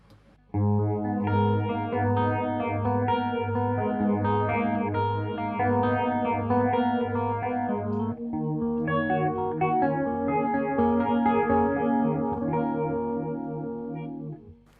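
Sustained electric guitar chords through a Pastfx (Foxx) foot phaser pedal on its fast setting, swirling with a quick, pulsing phase sweep, loud and close, with a brief pause midway before the playing resumes.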